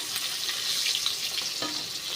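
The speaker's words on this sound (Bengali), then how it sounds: "আমার ভোলা মাছগুলো ভাজা হয়ে গেছে" Bhola fish frying in a pan produce a close, continuous sizzle with light crackling, and a brief stir or clink near the end.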